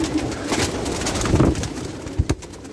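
Pigeons coo softly and repeatedly, close by, with some rustling and a couple of sharp flutters or taps toward the end.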